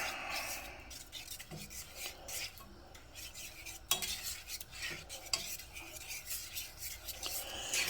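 Onions being stirred in a pan while they cook, with repeated scraping and clinking of a utensil against the metal, a faint sizzle underneath, and a few sharper knocks, close by and steady throughout.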